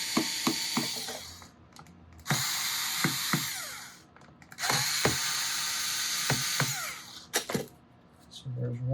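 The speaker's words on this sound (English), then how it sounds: "Let me get an electric screwdriver. Okay, so this will take these screws off a lot faster." An electric screwdriver removes screws from a steel-string guitar body in the workshop. Several whirring bursts of a few seconds each are separated by clicks and ratcheting taps, with someone talking between them.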